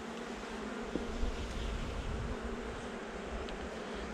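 Steady, dense buzzing of many honeybees close by at an open hive, a continuous low hum with no voices.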